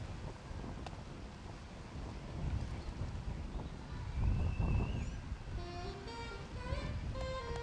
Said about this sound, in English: Seeing and feeling more of that wind.